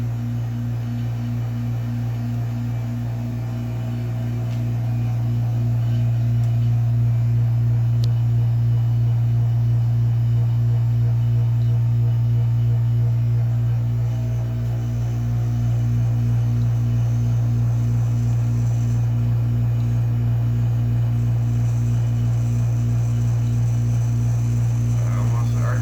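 A DIY Farnsworth fusor chamber gives off a steady, loud electrical hum with a strong low drone that swells as the voltage is cranked up, then holds at a constant level.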